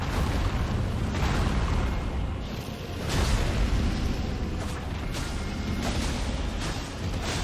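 Fiery explosions from the dragon boss Bayle's fire attack in Elden Ring: Shadow of the Erdtree, a dense, continuous roaring rumble with several louder bursts swelling through it, loud and close throughout.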